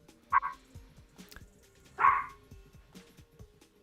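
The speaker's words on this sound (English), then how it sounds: "whose dog's going crazy in the background?" A dog barks in the background of a call, two sharp, distant yips about a second and a half apart, faint and thin.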